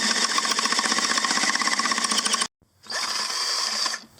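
A power drill boring through a German WW2 bunker wall, heard as a loud, close, buzzing rattle that cuts out abruptly, then a short silence before the drill starts up again and keeps running.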